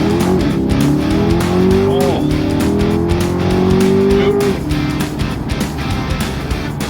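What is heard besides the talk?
Corvette accelerating hard with Soler throttle controller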